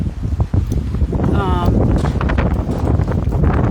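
Strong wind ahead of a hurricane buffets the microphone in rough, rumbling gusts, with a brief whistling tone partway through.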